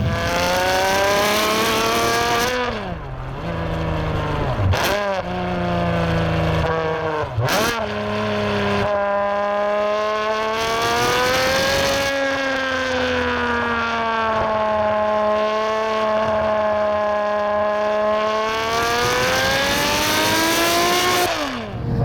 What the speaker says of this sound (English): that was fairly high RPM, but honestly, not even close to full throttle load